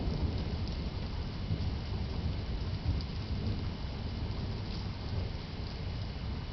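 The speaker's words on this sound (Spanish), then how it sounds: "Tormenta en Santa Fe." Rain falls steadily during a thunderstorm in Santa Fe, an even, continuous hiss and patter at moderate level with a faint low rumble beneath and no distinct thunderclaps.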